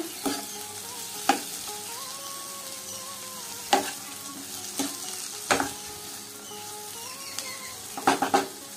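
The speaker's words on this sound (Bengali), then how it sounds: "এখন ভালো করে নাড়িয়ে নেব" Masala okra (bhindi) being stirred in a frying pan: steady soft sizzling with about six scraping spatula strokes spaced a second or two apart, close and moderately loud.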